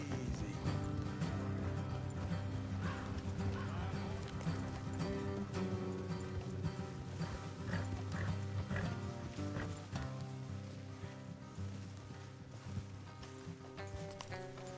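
Horses' hooves clip-clop steadily in the video game Red Dead Redemption 2, amid a dense wash of background music and ambience, with an occasional faint whinny.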